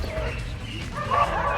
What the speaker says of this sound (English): So yeah, lots of dogs.